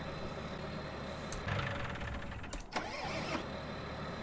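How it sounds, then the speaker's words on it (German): A Fendt 615 LSA Turbomatik tractor engine idles steadily in Farming Simulator 19, a low continuous drone with a couple of brief hissing bursts partway through. "mach mal den Motor an."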